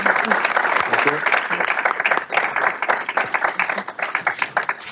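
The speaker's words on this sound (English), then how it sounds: "please let's give another round of applause to our excellent" Audience applause for a panel at an event honoring a late Guatemalan ambassador: loud, dense clapping from a room of people that goes on throughout, thinning into more distinct claps toward the end, with some voices mixed in.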